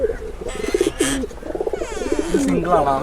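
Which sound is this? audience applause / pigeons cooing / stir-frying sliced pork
pigeons cooing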